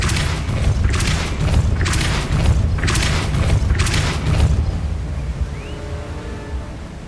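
Depulso spell casts in the game Hogwarts Legacy, four loud booming whooshes in a regular series, each a broad burst, followed by a quieter fading tail with faint tones.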